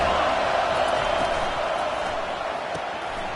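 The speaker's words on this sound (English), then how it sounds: "Decibels rising as the crowd gets behind this defense on third down." A stadium crowd in a college football video game roars steadily as the defense lines up on third down, a loud, dense wash of cheering that holds throughout and fades slightly toward the end.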